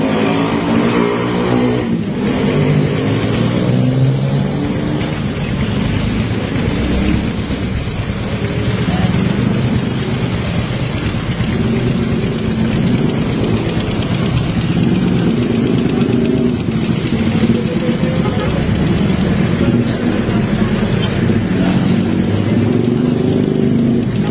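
A Rusi Turbo motorcycle engine runs steadily and loudly up close for the whole stretch, a continuous low mechanical drone with a faint rattle and no pauses.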